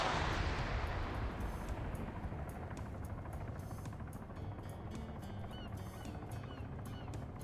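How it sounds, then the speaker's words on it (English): Video game helicopter setting down to pick up troops, a continuous rotor thump and whirring drone that starts loud and settles into a steady rumble, with faint scattered clicks and gunfire over the top. "the helicopter's now landing to pick more people up to ferry them in"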